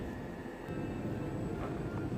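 A train at Nynäshamn harbour station in Sweden gives a low steady rumble with faint tonal whine, heard nearby as a continuous idling or moving drone.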